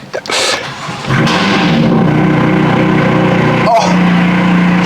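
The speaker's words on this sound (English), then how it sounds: "I'm going to start it up in Amir's shop here with valves open, stage 2 straight noise" A stage 2 BMW M4 fires up with its exhaust valves open inside a shop: a sharp starter crank and loud bark, then a steady, rumbling idle that stays loud and close to the end.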